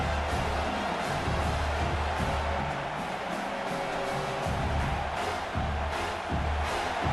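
A home stadium crowd in the College Football 26 video game roars and cheers in a dense, sustained wash of noise that swells slightly in places.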